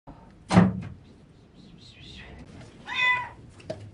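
A cat trapped in a ventilation shaft gives a couple of distinct meows. A sharp knock or thump opens the sequence, and faint voices and clatter from the rescue crew sound between the calls.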